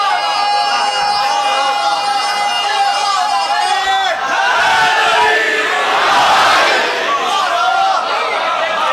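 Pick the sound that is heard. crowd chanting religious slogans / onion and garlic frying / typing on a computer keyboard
crowd chanting religious slogans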